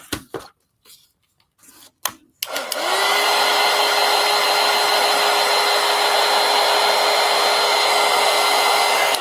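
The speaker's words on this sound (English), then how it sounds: "let me dry that little spot there now" A hair dryer blows on a spot of a mixed media collage disk, a loud steady close whoosh that starts abruptly after a few brief knocks and rustles, then runs unbroken to the end.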